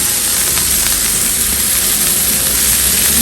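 Onion and capsicum sautéing in a pan for a kadai veg curry, giving a steady, close sizzle and hiss with no break and no talking.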